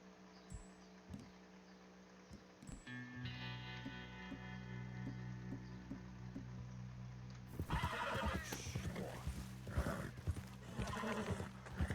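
Inside Red Dead Redemption 2, a horse gives a clear whinny, then hooves clip-clop in a steady rhythm that grows louder and closer, with faint ambient game sound underneath.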